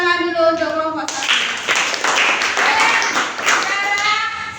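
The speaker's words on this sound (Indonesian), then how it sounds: "Beri tepuk tangan dulu untuk kelompok 1." Students in a classroom clap for a group after a voice finishes speaking, steady close hand clapping lasting a few seconds.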